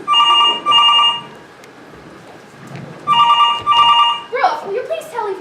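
A telephone rings twice at a spelling bee, each ring a pair of bright electronic trills, loud and close, with people talking quietly between the rings and afterwards.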